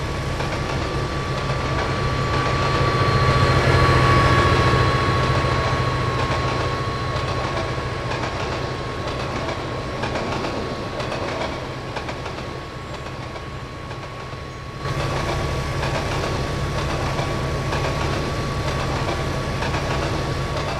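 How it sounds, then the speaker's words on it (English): Train rolling along the rails in a railway simulator game, hauling a long 27-car consist: a steady mechanical rumble with a sustained whine and a faint clatter of wheels, loud and continuous, with no talk over it. "We'll fix the camera to observe the train's movement."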